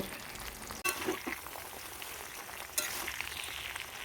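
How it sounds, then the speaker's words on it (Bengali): Jujube fruits fry in a pan for pickle, giving a steady, close sizzling hiss with occasional stirring scrapes and no voices. "এবার আমি এগুলোকে একটু ভালো করে ভেজে নেব"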